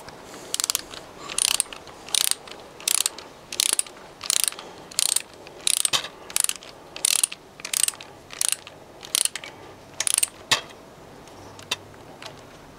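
A ratchet wrench tightening bolts on a rebuilt Fiat Abarth 131 Volumetrico engine, heard as a steady series of about fifteen sharp clicking bursts, close and distinct, with no talk.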